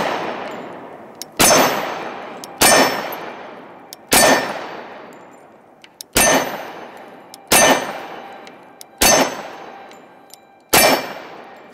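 Eight sharp, loud shots ring out from a compact nickel Sig Sauer 1911 pistol, evenly spaced about a second and a half apart, each crack followed by a brief ringing decay, with no talking between them.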